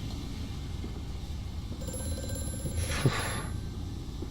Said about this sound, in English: Freaking phone.